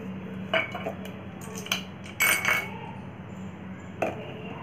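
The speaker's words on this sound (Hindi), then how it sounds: "अब इसके आइस क्यूबों को निकाल देंगे।" Ice cubes are lifted out of a bowl of ghee whipped to a creamy state, giving a few faint, scattered clinks and scrapes against the bowl over a steady background hiss.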